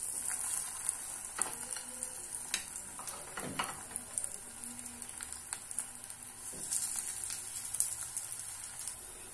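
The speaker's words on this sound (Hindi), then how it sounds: "फिर से इसमें 2 चम्मच रिफाइंड डालेंगे और दूसरे कबाब को भी हम इसी तरह सेक लेंगे" Hara bhara kababs made from green peas fry in a few spoons of refined oil in a pan, giving a faint, steady sizzle with scattered light crackles and pops.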